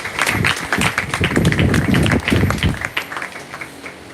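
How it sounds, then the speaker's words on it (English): Dense clapping from a crowd, steady and fairly loud, tapering slightly toward the end. "I think Landmark deserves a round of applause."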